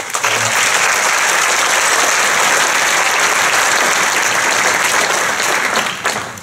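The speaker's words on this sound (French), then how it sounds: "Je pense qu'on peut l'applaudir." An audience at a New Year's greetings ceremony in Avranches applauds to welcome a new staff member, with loud sustained clapping from a large room filling the whole span and fading slightly at the end.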